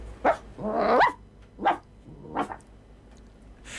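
A dog barking and growling close by: several loud, gruff barks spaced irregularly over a few seconds, one stretched into a rough growl, with no speech.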